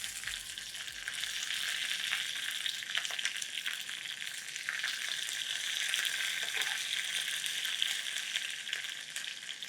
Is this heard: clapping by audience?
no